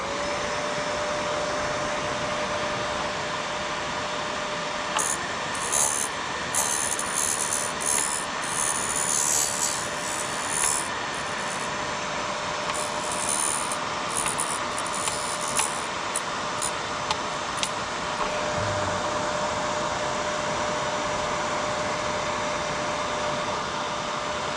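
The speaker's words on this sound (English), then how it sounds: "while the machine is running, you just kind of keep doing that until it doesn't grind anymore" A VEVOR MR-13A twist drill sharpener runs with a steady motor whine and airy hum while a drill bit is ground, intermittent light scraping ticks appearing over the drone, no speech.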